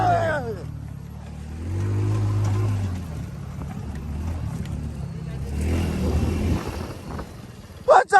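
Engine of a Tao Motor Baja 200S off-road vehicle driving on a rough trail, a steady low drone that rises and falls with throttle, with people talking over it and a loud knock at the end.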